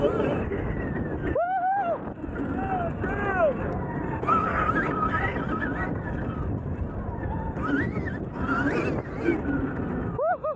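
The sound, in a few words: riding Stark Varg 80HP electric dirt bike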